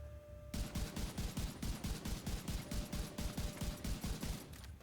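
Rapid automatic weapon fire in the video game The Division 2 rattles out as a fast, even stream of loud shots that starts abruptly and continues without pause.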